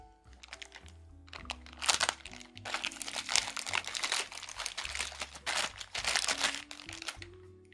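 A small sealed plastic packet from AliExpress holding a USB cable, crinkled and crackled up close in irregular bursts of rustling for several seconds.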